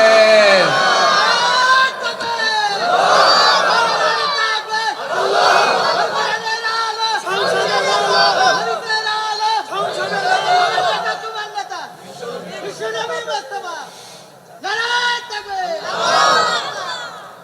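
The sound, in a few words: crowd shouting takbir (Allahu Akbar) in response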